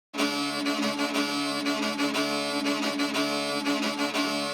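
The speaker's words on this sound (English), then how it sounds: "I wanted to do kind of like some 6/8 style offbeat bowing structures" A bowed tagelharpa plays a custom rhythm in 6/8 with offbeat bowing, its droning harmonic tone pulsing in regular accents, close and alone.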